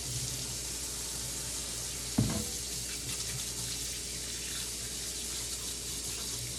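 A tap runs into a sink while hands are washed before mixing sourdough bread dough, a steady moderate splashing rush with one sharp knock partway through.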